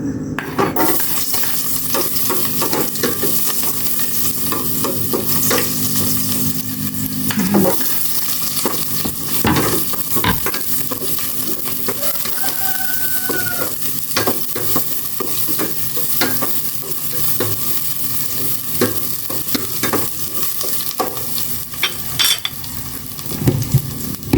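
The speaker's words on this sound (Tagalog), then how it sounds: "Igisa ko na itong bawang." Garlic sautéing in hot oil in a pan, a loud, constant close-up sizzle with frequent spatula scrapes and clinks against the metal throughout.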